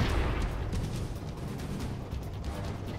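Heavy booming tank cannon fire and battle rumble in World of Tanks, loud and continuous with repeated blasts over a low rumbling background.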